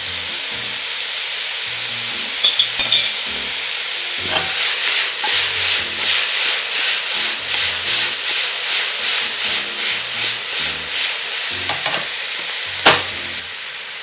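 Bok choy stir-fries in a hot pan with oyster sauce and sesame oil, a loud continuous sizzle broken by repeated scraping and tossing strokes, with a sharp clatter near the end.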